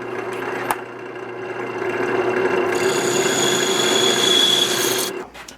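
A texturing tool runs against spinning wood on a lathe set to low speed, making a steady, loud, continuous rasping buzz that starts with a brief knock and stops abruptly near the end.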